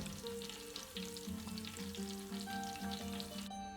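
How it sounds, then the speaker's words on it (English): Homemade ravioli deep frying in oil until crispy produces a soft, bubbling crackle under steady tonal background sounds, quiet and even throughout. "The idea is to deep fry them. Deep fry them till they're crispy."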